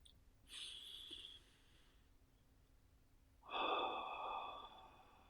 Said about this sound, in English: I invite you to take a couple of deep breaths.